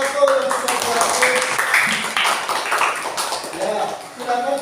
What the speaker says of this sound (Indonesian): Tepuk tangan untuk kelompok 1 yang sudah berhasil.